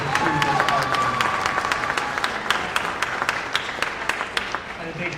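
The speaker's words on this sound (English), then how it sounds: "Please give them a round of applause" An audience at a 5th-7th grade school orchestra concert claps steadily, a dense crowd of hands with sharper individual claps popping through, while a voice carries on faintly underneath.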